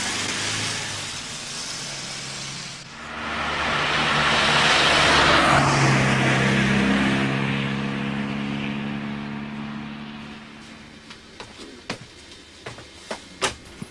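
A car passes, its engine swelling from a low hum to a loud rushing drone at close range, then slowly fading away, followed by a few sharp clicks and taps near the end.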